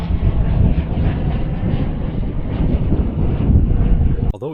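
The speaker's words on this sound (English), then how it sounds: "Light aircraft there." A light aircraft passes over a Peak District hilltop, its engine a steady rumbling drone mixed with wind buffeting, loud and continuous throughout.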